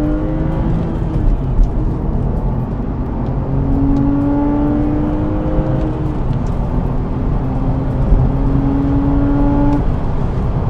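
A 2008 Porsche 911 Targa 4S (997 generation) accelerating hard on an open road, its engine note climbing steadily through the gears with rising, sweeping tones, loud and close, with no voices.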